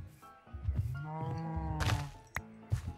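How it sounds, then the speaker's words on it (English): Cows moo in a farming video game, several drawn-out lowing calls sounding close and clear in quick succession with a few short thumps between them. "So let me go gather my cows."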